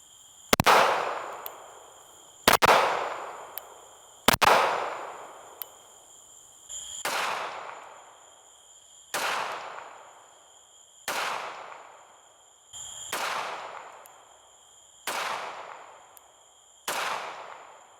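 Eight pistol shots from a Glock 49 fired without a compensator in the dark, each a sharp loud crack with a ringing tail, spaced roughly two seconds apart and heard alone.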